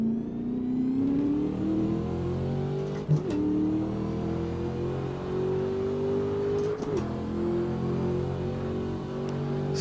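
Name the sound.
car supercharger whine in a video game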